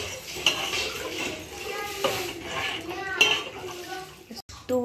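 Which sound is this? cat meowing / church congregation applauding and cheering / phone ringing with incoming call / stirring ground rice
stirring ground rice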